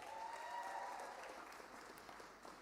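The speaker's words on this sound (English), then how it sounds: "A round of applause for him." Faint, distant applause from an audience at an executive education graduation ceremony, a soft wash of clapping that thins slightly toward the end, with a brief tonal hum near the start.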